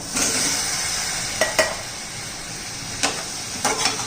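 Potato pieces frying in hot oil with masala in a pan, a steady loud sizzle with a few sharp clinks of a spoon stirring against the pan.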